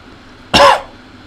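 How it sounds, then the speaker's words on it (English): A man gives a single short, dry cough up close, one sharp burst that ends quickly, with quiet around it. "the cough that I'm having is kind of sounds like this."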